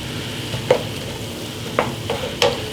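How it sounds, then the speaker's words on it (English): Andouille smoked sausage and softened vegetables sizzle steadily in a pan, close and fairly loud, broken by three sharp scrapes and clinks of a stirring utensil. "I'm going to put the andouille sausage in there."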